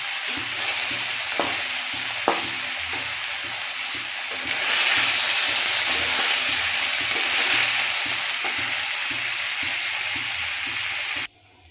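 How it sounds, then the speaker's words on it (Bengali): Paneer frying lightly in hot oil in a pan, a loud continuous sizzle with occasional stirring clatters, the hiss swelling stronger midway before cutting off abruptly at the end. "পনিরটা একটু হালকা করে ভেজে নিয়ে আগে"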